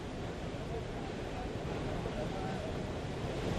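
Water rushing steadily during the wet run of a Kaleshwaram project pump in Package 6, a continuous broadband roar with a windy, surf-like texture throughout.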